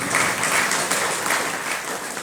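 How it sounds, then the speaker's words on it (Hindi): Sustained applause from a seated audience at a Hindi spiritual lecture, a dense, steady patter of many hands clapping together, fairly loud and continuous with no speech over it. "इस पर ताली बजा दी।"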